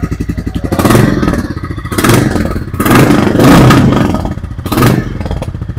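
A heavy 2023 Royal Enfield Bullet 350 engine revs up and down repeatedly, loud and close, with deep throaty pulses between throttle blips.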